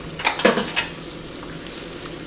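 Beetroot and chopped dates tumble into a pan for a beetroot date pickle, with a quick burst of spoon-on-metal clinks and stirring near the mic before settling into a faint, steady background hiss.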